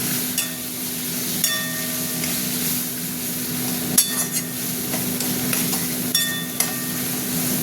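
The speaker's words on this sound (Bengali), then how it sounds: "মশলাটা খুব ভালো করে করবো, কষাবো মশলাটাকে ভালো করে।" Spice masala with coriander powder and salt being sautéed in a pan for egg curry, a constant hiss of frying under repeated scraping strokes of a spatula, close and steady, without talk.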